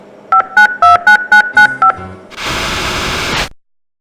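A video phone in the Tex Murphy game dials a quick run of eight evenly spaced DTMF tones, then gives way to a loud burst of hissing static that cuts off abruptly.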